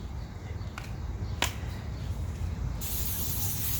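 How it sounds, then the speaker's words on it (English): A faint aerosol spray of coconut oil hisses in a short burst onto a grill toward the end, after a couple of soft clicks over quiet background noise. "I used coconut oil spray"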